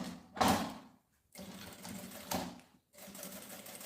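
Sewing machine stitching along the side of a backpack strap, two close bursts of rapid running stitches separated by short pauses, loud and alone.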